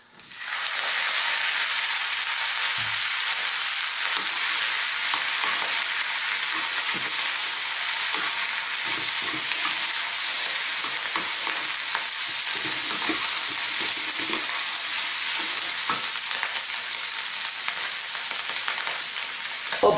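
Beef and green beans sizzle loudly and continuously in a hot stir-fry pan, a dense unbroken hiss with occasional soft stirring knocks beneath it.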